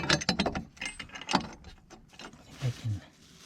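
A bolt is worked into a welded bracket on a ground-level deck frame, with faint metallic rattles, scrapes and a couple of soft thuds, close by in an uneven sequence with some quiet talk.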